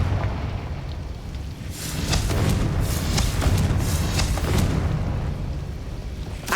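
A Confringo explosion spell cast in the video game Hogwarts Legacy, heard as a deep rumbling boom that swells and holds for several seconds before easing off, loud and close.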